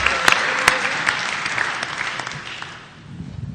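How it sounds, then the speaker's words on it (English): A church conference audience breaks into steady, dense applause that dips briefly near the end before picking up again, with no talk over it. "Let's get UU Church of Berkeley a round of applause for getting a visitor in the house."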